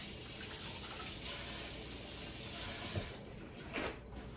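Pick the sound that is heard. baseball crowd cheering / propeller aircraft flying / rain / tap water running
tap water running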